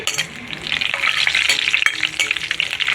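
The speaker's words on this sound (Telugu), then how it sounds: "ఇదిగోండి కొద్ది జీడిపప్పు వేయించుకుందాం ఆయిల్ అయితే కాగింది" Cashew nuts frying in hot oil in a pan, a steady close sizzle with stirring scrapes throughout.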